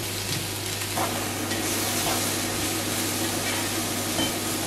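Cabbage frying in oil in a pan, a continuous dense sizzle and crackle held at steady loudness, with a low steady hum underneath and no talk over it.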